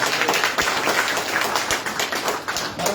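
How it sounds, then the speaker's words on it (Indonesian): A church congregation at a Sunday service claps hands together in dense, continuous applause, many palms overlapping at close range with no break. "Kasih tepuk tangan dulu buat Tuhan."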